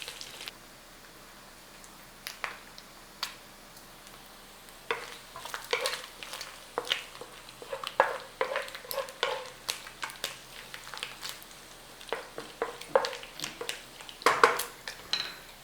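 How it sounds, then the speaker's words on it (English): Bacon renders slowly in a pan with a quiet sizzle, broken by frequent light scrapes and clinks of a utensil stirring against the cookware, close and fairly soft. "So we're rendering this nice and slow. We want to draw out as much bacon fat as we can."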